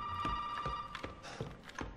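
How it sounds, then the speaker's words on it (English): A telephone rings in the Resident Evil 7 video game, repeated electronic trills in several quick bursts, close and clear with no talking over it. "I guess I'm gonna answer the phone first."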